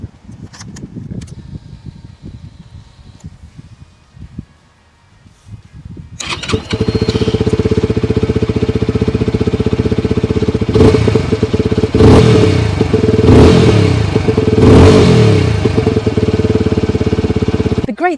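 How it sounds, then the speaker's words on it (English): A Peugeot PM-01 125 motorcycle with a blacked-out exhaust starts up after some quiet handling noises, then idles with a steady, close burble and gets several sharp throttle blips. "it's got such a distinctive burble and a nice sound for a 125."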